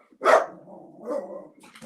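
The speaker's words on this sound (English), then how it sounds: "It's a dog." A dog gives a short bark, followed by a softer, drawn-out whine and a brief yip. The sounds are close and clear, and no one is talking.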